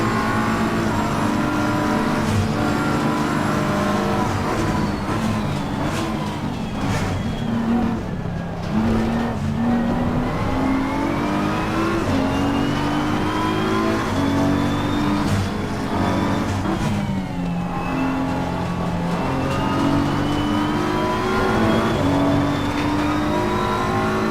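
Race cars lapping Monza in a racing video game, a loud continuous engine drone rising and falling through gear changes and acceleration, with touches of tire squeal and no talking.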